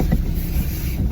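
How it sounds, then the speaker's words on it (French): Steady gusting wind roars against the microphone, a dense low rumble with no voices. "Mais comme il y a un grand vent"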